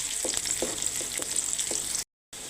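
Whole cumin seeds sizzling in hot goat fat, a loud, continuous frying hiss up close with soft scraping stir strokes at a steady rhythm, cut off briefly by a moment of silence before the sizzle resumes.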